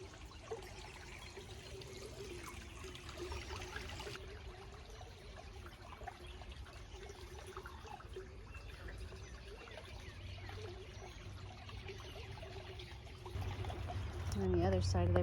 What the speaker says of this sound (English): There's this little culvert here on the side of the trail. Just a teeny little path down to it, and it's just a trickle.